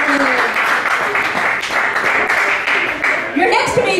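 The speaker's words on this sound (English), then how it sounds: "Put your hands together for Chris Martin" An audience claps and cheers for a comedian at a 2012 comedy night at McCormack's in Richmond, Virginia, steady close applause filling the room, with a host's voice partly underneath.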